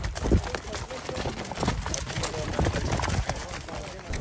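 Pack donkeys carrying gear and kitchen supplies along a steep mountain trail, their hooves clip-clopping in an uneven rhythm close by, with people talking over the steps.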